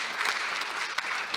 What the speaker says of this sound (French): On peut applaudir absolument